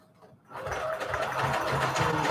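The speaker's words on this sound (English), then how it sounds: "Do just a regular zigzag stitch." A sewing machine runs a regular zigzag stitch for a junk journal cover. It starts after a brief quiet moment, then whirs steadily and loudly with a fast, even mechanical rhythm.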